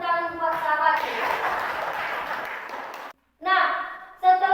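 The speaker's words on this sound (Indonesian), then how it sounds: "Berikan lagi tepuk tangan buat sahabatnya." A classroom of children gives a burst of brisk, dense applause lasting a few seconds, followed after a short gap by children's voices.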